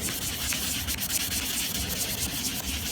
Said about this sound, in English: I start with a 400 grit paper and I start sanding